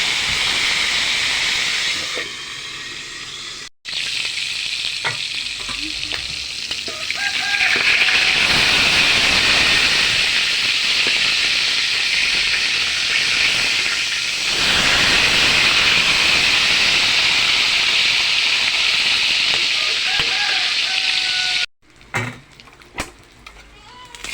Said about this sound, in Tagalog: Isunod po natin yung buntot ng bangos mga idol no, sa pinitis po sa kawali